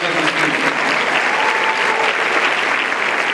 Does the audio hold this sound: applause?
yes